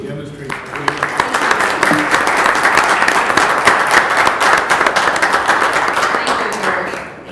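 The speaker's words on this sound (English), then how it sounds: "I'd like to give her a round of applause" At a committee meeting, a room gives a loud, sustained round of applause for an award recipient, with dense clapping that builds quickly, holds steady and then fades.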